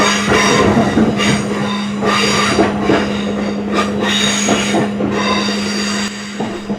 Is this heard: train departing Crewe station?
yes